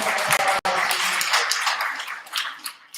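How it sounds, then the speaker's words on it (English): An audience at a women's leadership academy event, police officials present, giving a round of applause, a fairly loud wash of clapping that thins and fades toward the end. "a round of applause"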